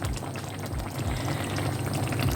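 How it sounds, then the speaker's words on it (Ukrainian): Fish stew bubbles at a steady boil in a pot on medium heat, a continuous loud churning and gurgling with no talk over it. "І як бачите, тут уже у нас закипіло."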